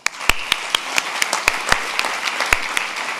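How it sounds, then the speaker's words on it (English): An audience at a university graduation ceremony claps and applauds steadily, with sharp individual claps popping out above the continuous patter. "join me in giving them the biggest round of applause"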